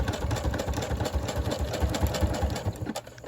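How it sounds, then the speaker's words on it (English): A sewing machine runs a zigzag stitch through paper, with a fast, even mechanical chatter of needle strokes close by and moderately loud, unbroken for the whole stretch, with no talking. "I'm gonna press down again and then continue with my zigzag stitch"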